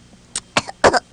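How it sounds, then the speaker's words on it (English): Cottontail, an animated rabbit character, fakes a short burst of about four quick, breathy coughs in a row. "Cottontail pretended to cough."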